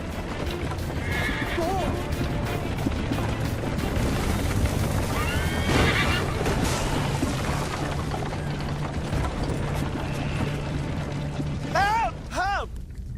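Hooves gallop in a fast, continuous clip-clop through the Assassin's Creed Liberation video game, while shouting voices and busy action sounds fill the scene. Two sharp neighs rise near the end.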